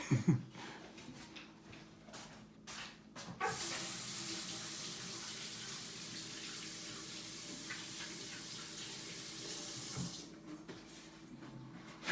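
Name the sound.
water running from tap while washing hands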